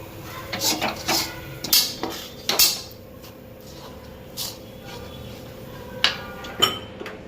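A spoon scrapes and knocks against a pan while cashew powder is stirred into sugar syrup for kaju katli, giving irregular metallic clinks and taps, close and moderately loud, with quieter pauses between strokes.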